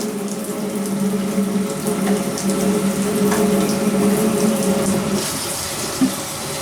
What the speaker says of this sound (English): all I'm going to do is turn on my water and fill up the pot